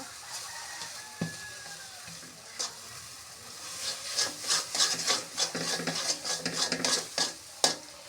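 A paste of garlic, onion and dried chili is stirred and mashed into taro, producing repeated close scraping and rubbing strokes that grow busier and louder, with occasional sharp utensil knocks.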